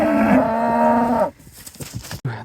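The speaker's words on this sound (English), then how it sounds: "a number of cows turned up and said hello." Cows moo close by near an abbey, one long harmonic low from a single animal that breaks off partway, followed by quieter shuffling and rustling in the open air.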